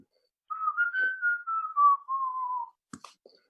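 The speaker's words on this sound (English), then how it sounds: "whistle for 30 seconds" A person whistles a short, wavering tune while waiting, clear and close in a quiet room, followed by a few faint clicks.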